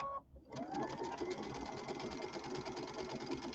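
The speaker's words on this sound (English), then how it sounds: "Just sewing the short ends together with a 1/4 inch seam" A sewing machine runs a quarter-inch seam joining the short ends of pillow fabric, giving a continuous, even mechanical hum with rapid needle pulsing after a brief start.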